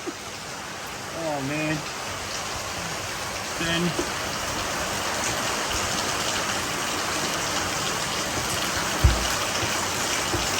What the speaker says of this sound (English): Who would have said it was going to rain today?